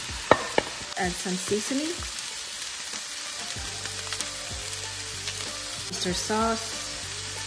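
Chicken and garlic frying in a pan for chicken pastil, a steady close sizzle with stirring clinks and scrapes, while a voice talks over it about adding seasoning.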